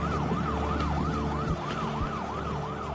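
An ambulance siren wails in a steady, rapid rising-and-falling cycle near a crime scene in Manila, loud and continuous over a low rumble of vehicle noise, with no voices.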